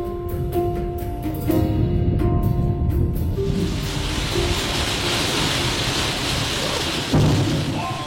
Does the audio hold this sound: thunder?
yes